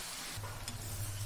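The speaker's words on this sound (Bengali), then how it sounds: "ভালো করে নেড়ে নিচ্ছি" Amaranth greens frying in a pan while being stirred, a soft steady sizzle with faint scraping, brief and close with nobody talking.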